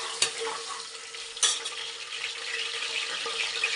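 Potatoes fry in a pan for fenugreek leaf pulao, a dense steady sizzle with a couple of sharp scrapes from a stirring spoon, close and continuous with no voices.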